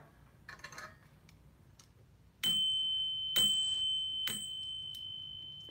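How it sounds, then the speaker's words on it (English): A small bell rings three times in succession, each bright metallic strike leaving a sustained shimmering tone, clear and close in a quiet room. "Let's start with ringing the bell."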